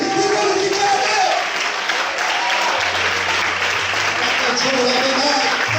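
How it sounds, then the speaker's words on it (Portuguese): Church congregation clapping in a loud, steady wash through a worship service, with voices and what sounds like music or singing running underneath the whole time. "Será que você pode aplaudir?"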